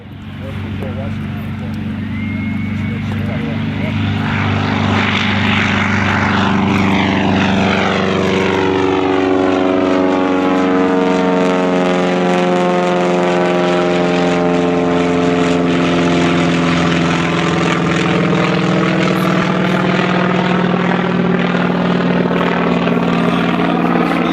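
A Grumman Wildcat propeller fighter flies past at the Geneseo air show, a loud droning engine roar with a strong sweeping Doppler pitch change as it passes close, then sustained engine noise as it moves on.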